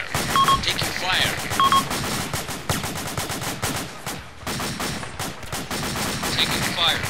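Rapid gunfire and machine-gun bursts in the military game United Operations during the Battle of Wanat, dense repeated cracks with beeps, radio voices talking over the shooting throughout.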